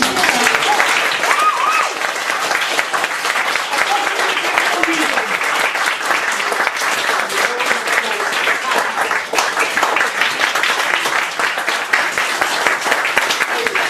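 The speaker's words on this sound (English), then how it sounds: "A round of applause" An audience at a poetry book launch gives a long round of applause, dense steady clapping held at a strong level, with a voice speaking intermittently over it.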